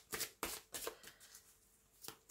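Playing cards handled and flicked in a series of sharp papery snaps and riffles, several close bursts separated by brief pauses, with no talk.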